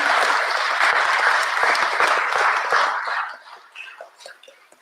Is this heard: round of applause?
yes